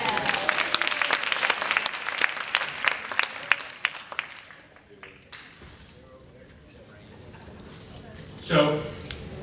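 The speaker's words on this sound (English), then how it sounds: "Give them a round of applause." Teen conference audience breaks into applause, a dense patter of clapping that tapers off after about four seconds, followed by a quieter room and a brief voice near the end.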